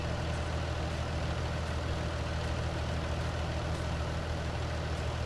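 A tractor engine idles steadily and close by, a continuous low rumble with a constant drone and no pauses, heard out in a farm field during sugar beet work.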